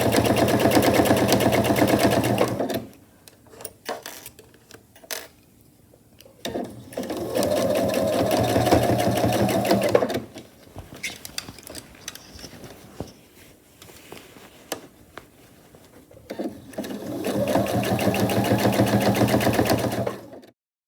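Sewing machine back-stitching a tote bag: three loud bursts of rapid mechanical stitching separated by quiet pauses with small handling noises.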